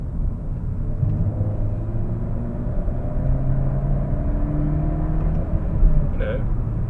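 A Mercedes C180 W204 accelerates hard during a pull, its engine droning and rising in a steady, loud rumble up close.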